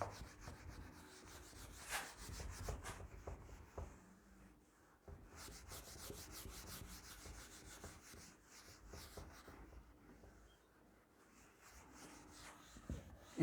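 Paper is rubbed by hand in a series of soft, scratchy, continuous strokes that stay faint and close, with brief pauses and no talking.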